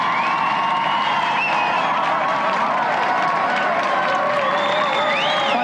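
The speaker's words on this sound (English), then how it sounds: "Round of applause for Peter." A game-show studio audience applauds and cheers loudly and without a break, with clapping, whoops and shouts blending into one dense roar.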